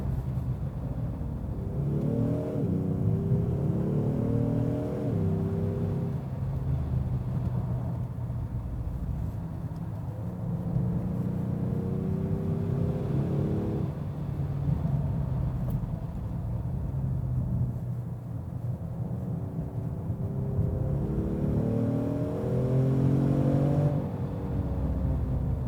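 A 2020 Genesis G70 3.3T AWD drives from the cabin as its engine rises and falls through repeated accelerations, the revs sweeping up in several pulls over a steady low road rumble, with no talk.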